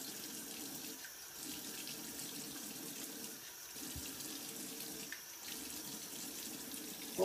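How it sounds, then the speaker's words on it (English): Tap water runs steadily into a sink for a quick rinse after a shave with a Sanguine shavette, a soft, continuous splashing hiss at close range with no talk. "let me just do a quick rinse off here"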